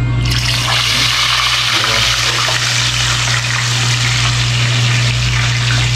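Fish rinsed under running water from a tap makes a loud, steady gush that fills the whole stretch, with a low electrical hum underneath.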